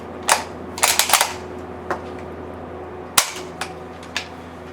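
Sharp cracks from an SMLE rifle being fired, a few separate shots spaced irregularly across a steady low background hum, each loud and abrupt with a quick decay.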